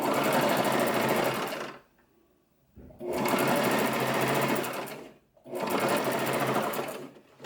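A sewing machine stitches a salwar top, running in three loud sustained bursts of whirring stitches separated by short pauses, with no talk over it.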